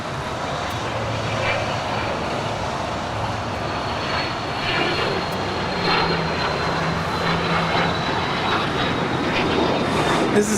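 A Hawker 900XP business jet departs from Los Angeles International Airport, its engine roar a steady broadband rush at moderate distance that swells slightly toward the end, with a faint high whine running through it.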